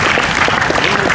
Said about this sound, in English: We are honored to have, you can clap?